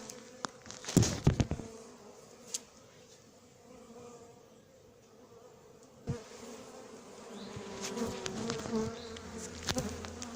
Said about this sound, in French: il y a des abeilles qui attaquent